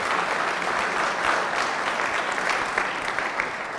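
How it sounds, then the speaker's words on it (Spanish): A church congregation claps steadily and enthusiastically throughout, a dense, even wash of applause with no voices standing out. "Fuertes aplausos a Jesús por su amor y su misericordia."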